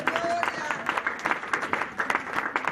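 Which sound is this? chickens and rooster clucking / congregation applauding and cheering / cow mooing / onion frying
congregation applauding and cheering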